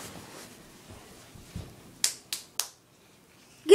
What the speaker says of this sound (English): So, I clap at Sammy's face like this.